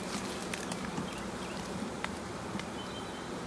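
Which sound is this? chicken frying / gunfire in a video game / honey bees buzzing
honey bees buzzing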